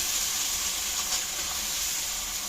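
Spice masala frying in oil that has begun to separate, a steady, dense sizzle and hiss holding evenly throughout with no breaks or talk.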